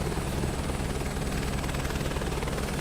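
Helicopter in Microsoft Flight Simulator 2024 flying over the US East region, a loud constant rotor beat and engine roar that holds steady throughout with no voices.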